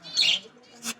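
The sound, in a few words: pet bird squawking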